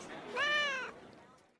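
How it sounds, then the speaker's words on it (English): A cat in an office gives a single clear, drawn-out meow lasting about half a second, near and moderately loud, followed by quiet room tone. "You brought your cat into the office?"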